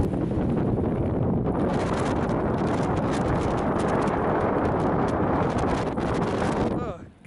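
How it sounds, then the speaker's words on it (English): Strong wind roars across a snowy mountain during a snowstorm, buffeting the microphone in a loud, continuous broadband rush that holds steady for about seven seconds before dropping away at the end. "The temperature's not that bad, it's just the wind."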